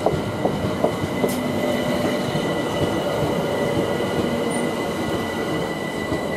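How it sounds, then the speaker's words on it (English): A Class 387 electric train pulling into Imperial Wharf station, a steady loud rumble of wheels on rails with faint clicks and a brief high squeal, close by and without talk. "387221 is arriving now."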